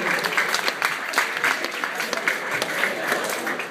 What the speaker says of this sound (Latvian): Paldies, aplausus korim no Vakarbuļiem.